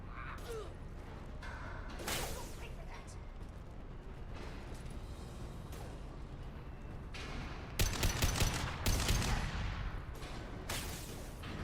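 Rapid gunfire bursts in a Mass Effect 2 firefight, aimed at the player, crackling and cracking repeatedly with heavier, denser volleys late in the clip.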